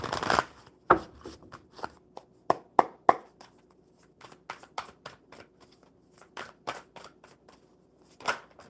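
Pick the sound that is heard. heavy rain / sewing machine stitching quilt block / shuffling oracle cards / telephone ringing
shuffling oracle cards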